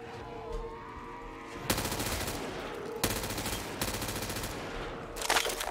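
M4 rifle gunfire in a zombies video game, with rapid automatic bursts in several loud sharp volleys separated by short pauses.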